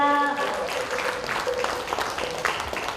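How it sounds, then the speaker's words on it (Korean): Congratulatory applause from an audience at a Korean Buddhist launch ceremony, with a voice trailing off at the very start before steady clapping fills the rest. "네, 축하의 박수 부탁드립니다."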